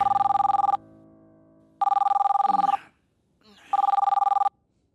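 A telephone rings in a scene from an action movie, three loud electronic trilling bursts separated by pauses, with faint voices and background sound between rings.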